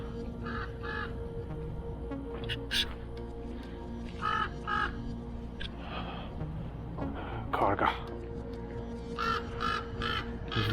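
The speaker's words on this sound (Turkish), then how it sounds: "oradan bir kuş bana bağırıyor" A crow caws repeatedly in short bursts, fairly close, over a steady outdoor hum on Melrose Boulevard, Los Angeles, with someone talking intermittently.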